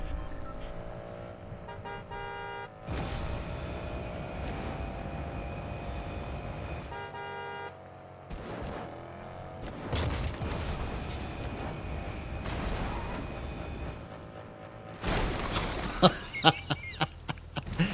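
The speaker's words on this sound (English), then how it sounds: "What kind of car wreck was that?" Car crash in the Fortnite video game, heard as a rush of game engine and horn-like tones with several sharp impacts and clatter near the end, over steady game sound.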